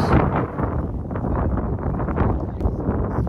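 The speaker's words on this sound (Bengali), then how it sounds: "বাতাস," Wind on a mountain top reached by car buffets the microphone with a loud, continuous low rumble and gusty rustling throughout, with no clear voices.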